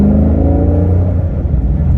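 A car engine with a full Hurricane exhaust system revs loudly and steadily up close, a deep, continuous rumbling drone with rising harmonic whine and no talk over it.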